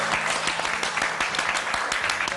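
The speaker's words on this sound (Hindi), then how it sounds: "बहुत ताली पीट रहा है।" An audience at a televised dance competition claps steadily and loudly, a continuous dense patter of many hands with no talking over it.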